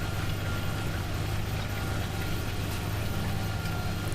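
A tractor engine in the Farming Simulator 17 video game runs with its wheels slipping, giving a continuous, steady, fairly loud drone that barely changes and has no speech over it.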